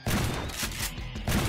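Several rapid gunshots ring out in the sandbox game Garry's Mod on a horror map, loud and close, in quick bursts over a brief moment, with no speech.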